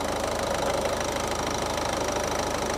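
A car engine idles steadily with the air-conditioning compressor clutch engaged during a refrigerant recharge, giving a constant close low hum with a faint rhythmic knock and no talking.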